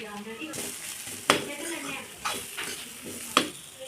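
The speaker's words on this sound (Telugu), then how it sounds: "ఉల్లిగడ్డ మగ్గాక కాన్స్ వేసుకోవాలండి ఇలా ఫ్రై చేసుకోవాలి" Sweet corn and onion fry in oil with chilli powder and garam masala in a pan for samosa filling, a soft sizzle punctuated by several sharp metallic spoon strikes against the pan.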